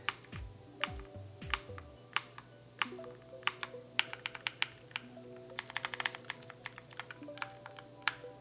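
Keys pressed on a NuPhy Halo 65 compact keyboard, a series of crisp close clicks in irregular bursts, sparse at first and then quicker, with a soft low hum underneath.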